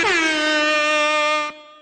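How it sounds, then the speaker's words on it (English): Loud air horn blasts once at a hockey game after a goal, a steady brassy tone holding for about a second and a half before cutting off sharply. "one more time, just so that we have, the same amount of goals and air horns here"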